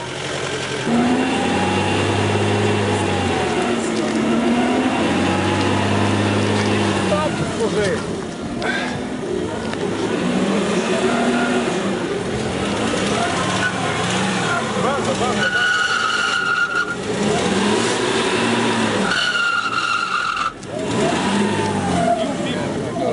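A new Subaru Outback runs on all-wheel-drive test rollers, its engine droning loudly and steadily with rising and falling revs throughout, and people talk over it.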